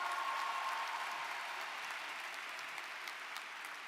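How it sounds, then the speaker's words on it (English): Steady, sustained applause from a large commencement audience, a dense wash of clapping that holds evenly throughout at moderate distance, with no voices over it. "Let's have a round of applause for them as well."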